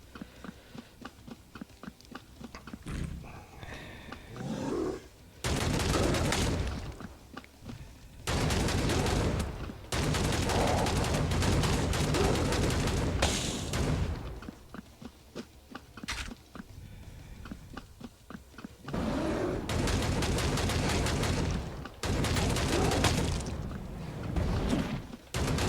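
Enemy weapons firing at the player in the shooter Hellbound, loud bursts of rapid automatic gunfire in several long stretches, with quieter sparse shots between the bursts.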